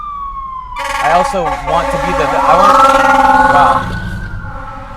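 Fire truck siren passing by on a street, a loud wailing tone that rises and sweeps as the vehicle nears and then fades slightly, with a person speaking briefly underneath.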